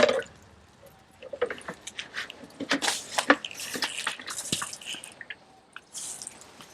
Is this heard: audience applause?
no